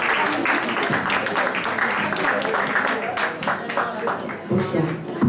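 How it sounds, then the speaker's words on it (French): A French variety-show audience applauds a young singer named Suzy, dense clapping running throughout with voices and cheers mixed in. "On applaudit Suzy, s'il vous plaît."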